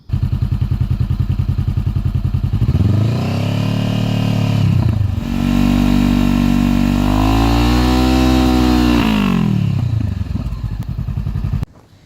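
A 2014 Honda CBR 500R with an aftermarket exhaust idles loudly and close, then revs up in two strong sweeping pulls before settling and cutting off, with no talk over it.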